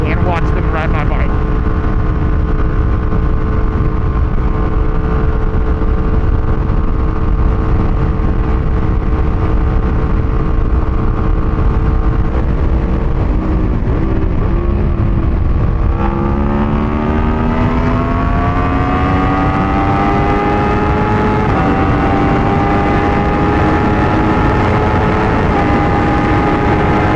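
A 2012 Aprilia RSV4 sport bike running nearby, its engine whine holding steady then dipping and climbing again through gear changes, loud and continuous with a rushing wind rumble.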